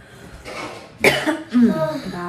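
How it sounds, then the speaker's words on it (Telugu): Coughing and throat clearing while preparing a herbal bath powder at home, with a few harsh close coughs in short bursts and brief speech mixed in. "దగ్గు దగ్గు వస్తుంది"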